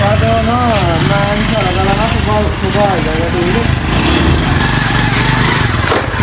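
A motorcycle ridden through a village gives a loud, continuous engine drone that rises and falls in pitch as it revs, with voices mixed in over the engine.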